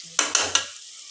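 Egg and chicken sambar being stirred in a pan, heard as three quick, close scraping strokes in rapid succession before the sound falls quiet.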